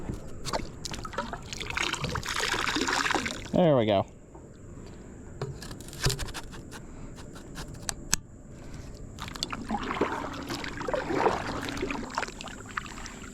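A kayak paddle dips and splashes in fishing water, with trickling drips and bumps of the hull amid quiet stretches, while someone speaks briefly nearby.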